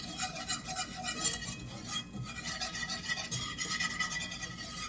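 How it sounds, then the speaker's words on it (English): Flour being stirred into melted butter in a pan to make a roux for meatball gravy, a steady close scraping and swishing with faint clinks of a utensil against the pan, continuous and fairly quiet, no talking. "the trick here is to incorporate the flour into the butter"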